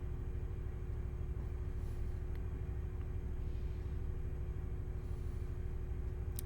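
Diesel-electric train engine in the video game Train Simulator 20 gives a steady, loud, low droning rumble that holds unbroken throughout, with no voices.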